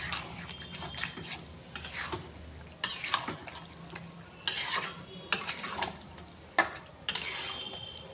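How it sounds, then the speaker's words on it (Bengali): Chicken is stirred in a spiced masala with a little sugar, giving repeated bursts of spatula scraping and sizzling in a pan, with loud strokes every second or so over a steady low frying hiss. "এটা আমি ভালো করে কষিয়ে নেব মশলাটা দিয়ে।"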